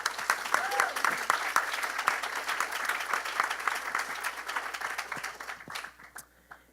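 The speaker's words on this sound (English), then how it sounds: "Please give her a warm round of applause." Warm audience applause at a medicines conference panel, a dense steady round of clapping from a crowd that carries on for several seconds before tapering off into a few last claps.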